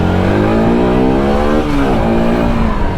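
A SYM NH X 125 motorcycle revs loud and close, its engine tone climbing and wavering in one continuous pull with no talk over it.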